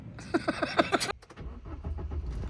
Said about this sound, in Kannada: ಕಾರ್ ಸ್ಟಾರ್ಟ್ ಮಾಡು.